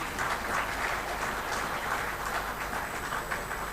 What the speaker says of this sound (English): Let's boost the spirit with a big round of applause.